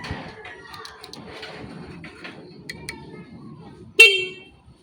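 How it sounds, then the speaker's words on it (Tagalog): A single short, loud car horn blast sounds near the end, sharp, after a stretch of faint background noise and distant voices. "tapos loud horn"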